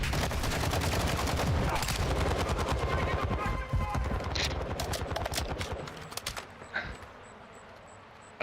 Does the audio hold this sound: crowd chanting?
no